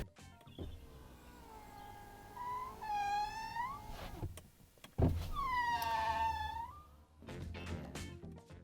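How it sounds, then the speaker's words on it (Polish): Power window on a new Ferrari Roma sliding down in two long passes, each with a rising and falling motor whine and a clunk in between, with a soft wail-like tone over the hum and no talking. "Nowy samochód i wydaje ten dźwięk w czasie opuszczania szyby."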